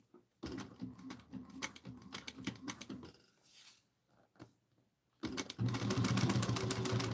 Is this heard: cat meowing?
no